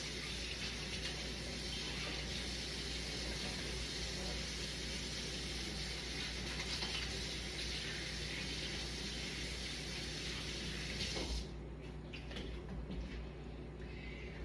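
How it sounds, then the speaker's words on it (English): Tap water runs steadily in a kitchen sink as hands are washed, a constant close hiss that stops abruptly near the end, leaving faint clinks and handling sounds. "let me just wash my hands"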